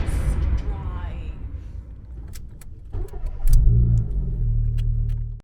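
A Fiat Punto, fresh from a radiator repair, pulls away on a test drive: a close engine hum and rumble with scattered clicks and rattles, then the motor rises as it accelerates.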